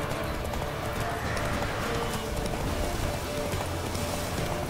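Horse galloping in The Witcher 3 video game, a fast, steady run of clip-clop hoofbeats filling the whole stretch, close and loud over a dense, rain-like wash of ambient noise.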